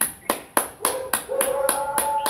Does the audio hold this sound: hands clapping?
yes